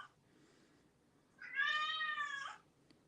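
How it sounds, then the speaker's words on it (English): A female house cat lets out one loud, drawn-out, angry yowl lasting about a second. It is close by indoors, with quiet room noise before and after and no talking. "Did you just hear my cat yell at me?"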